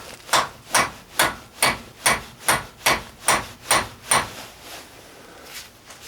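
A punch is hammered into the center of a 2003 GMC Sierra or Chevrolet Silverado 2500 truck axle, producing about ten sharp metallic blows in an even rhythm, close and loud. The strikes fade slightly toward the end and then stop.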